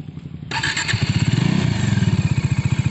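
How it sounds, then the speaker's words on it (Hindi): A Bajaj Dominar 400 motorcycle engine cranks and catches, then settles into a loud, close, rhythmic idle with steady thumping pulses. "स्टार्ट करो बाइक"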